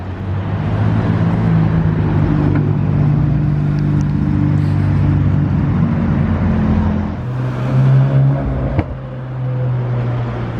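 A Ferrari's engine hums steadily at close range in Monaco, with a low rumble that shifts pitch as the car moves and rolls past.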